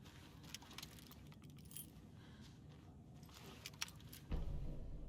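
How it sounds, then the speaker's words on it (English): A ring of keys jangles in a survival horror game, Alan Wake 2, with scattered light metallic clinks over quiet ambience, then a louder low thump near the end. "I'll need these keys."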